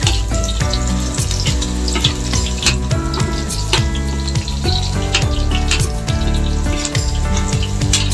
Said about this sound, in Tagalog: Yan na po ang ating bawang mga kaibigan. Ginigisa ko na po.